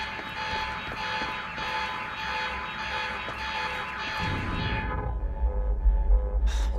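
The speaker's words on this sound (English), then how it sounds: "Alarm's not gonna make my life any easier." An alarm goes off in the video game Quantum Break, a loud, steady electronic tone with a pulsing, throbbing pattern that fills the space, then drops into a deeper rumble near the end, with no talk over it.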